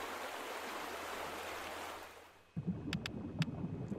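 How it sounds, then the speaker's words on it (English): A game character falls into water in the video game A Space for the Unbound: steady rushing water noise gives way to a sudden splash, then choppy, bubbling water with a few sharp high clicks, all fairly quiet and without talk. "Oh dear, we fell in the water."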